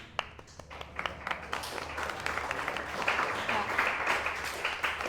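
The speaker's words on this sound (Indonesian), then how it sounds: "Oke, tepuk tangan untuk temannya." A classroom of students applauds a classmate, starting with a few scattered claps and swelling into steadier, moderately loud group clapping.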